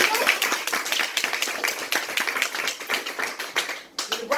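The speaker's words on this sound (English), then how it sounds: "Round of applause again, my people." Audience applause at a comedy night at Epic Legacy Center, dense close clapping with sharp individual claps throughout, briefly dipping near the end before resuming.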